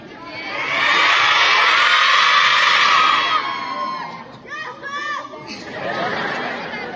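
A large crowd of children loudly shouts "yes ma'am" in unison at a Women's Day school event, a sustained roar followed by scattered voices and a second rising cheer.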